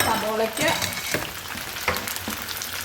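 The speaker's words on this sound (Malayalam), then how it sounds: "ആ എണ്ണയിലോട്ട് നമ്മൾ ഈ സബോള ഇട്ട് നമ്മൾ ആദ്യം അരിഞ്ഞു വെച്ച സബോള അങ്ങ് ഇട്ട് കൊടുക്കുകയാണ് വഴറ്റാൻ വേണ്ടി" Chopped onions drop into hot oil to sauté for pepper chicken, a close crackling sizzle with a few sharp pops and stirring clicks. It starts louder and then settles slightly.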